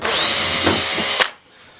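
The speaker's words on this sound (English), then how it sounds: "I'm going to go through with the bigger drill bit now." A power drill with a large bit boring through material for a homemade anchor, a loud steady whine held for over a second that cuts off sharply, then near silence.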